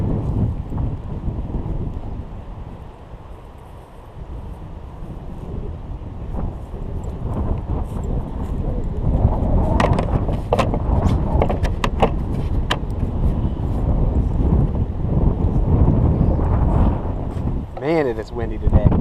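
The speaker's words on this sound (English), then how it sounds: "Man, it is windy today." Strong wind buffets an outdoor microphone beside a small pond, a loud continuous roar with gusty surges that swell and ease throughout, with occasional rustling bursts.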